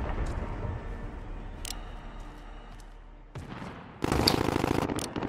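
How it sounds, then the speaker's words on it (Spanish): Gunfire in the video game Call of Duty Warzone: scattered shots rattle faintly through game noise, then a louder, denser burst of firing breaks out near the end. "aquí tiros abajo"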